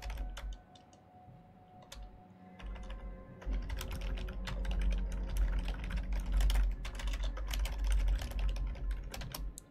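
Someone types on a computer keyboard while playing the video game Moons of Madness, producing quiet, irregular bursts of clicking keystrokes that grow busier after a brief pause.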